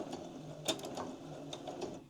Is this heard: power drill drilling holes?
no